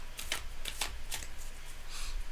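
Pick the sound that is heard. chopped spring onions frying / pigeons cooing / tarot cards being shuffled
tarot cards being shuffled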